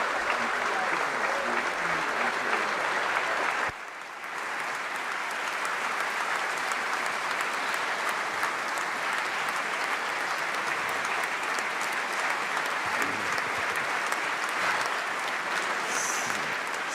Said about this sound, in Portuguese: só reagem as bancadas do PSD e do CDS, aplaudindo o que acabou de dizer Marcelo Rebelo de Sousa